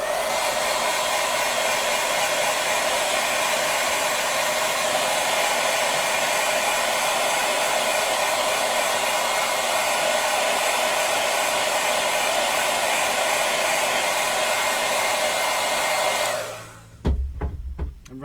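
A heat blower runs steadily to dry water-based airbrushed paint on an RC car body shell, a loud continuous whooshing hum that holds for about sixteen seconds before cutting off abruptly, followed by a few light knocks.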